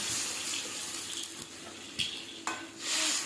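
Water poured into raw mango pieces frying in a pan, a steady splashing hiss with sizzling bursts near the end, close and fairly quiet with no talk.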